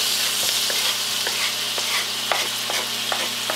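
Meat thrown into hot oil with garlic fries loudly in a stir-fry pan, a dense continuous sizzle broken by small scraping stirs throughout, with no talking.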